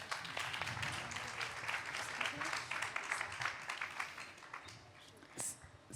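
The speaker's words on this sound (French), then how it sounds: "on peut les applaudir" Audience applause at a forum event, a dense patter of many hands clapping, moderately loud and steady before fading near the end, with a voice talking over it.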